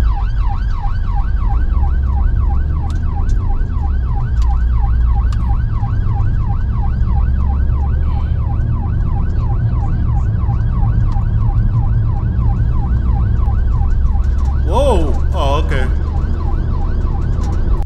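Wailing emergency siren rises and falls steadily on a busy rush-hour motorway, loud against constant traffic roar, with a burst of higher yelping tones near the end.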